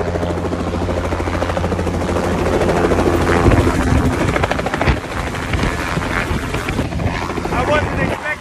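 A helicopter over Medellin, Colombia, lifting off after touching down, its dense rotor and engine roar loud and steady throughout with gusting wind buffeting, while voices speak underneath.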